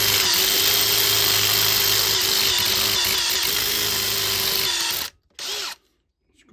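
A power drill runs at a steady high-pitched whine for about five seconds, loud and close, then stops, followed by one brief burst before cutting out, fitting a new lock on big gates.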